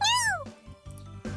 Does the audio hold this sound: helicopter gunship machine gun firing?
no